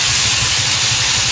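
Steam hissing steadily from a pot of crabs being steamed with a little salt, a dense continuous hiss with a low rumble underneath, loud and close throughout.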